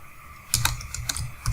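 Quick bursts of keystrokes on a computer keyboard while code is typed, a short run of close, crisp clicks with brief pauses between groups.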